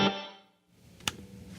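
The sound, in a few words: electric guitar reverb with a short decay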